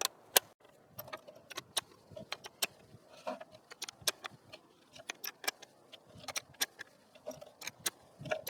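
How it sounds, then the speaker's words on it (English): Aguila rounds being loaded into a Ruger SFAR rifle magazine make a series of sharp metallic clicks and snaps at an uneven rhythm, close and fairly crisp, with no talking. "Now I'm going to go ahead and load up the last 10 rounds of the Aguila."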